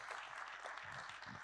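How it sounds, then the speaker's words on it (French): Quiet applause from a conference audience after a talk on water and climate change, a soft, steady patter of clapping at some distance, brief and fairly faint. "on peut applaudir"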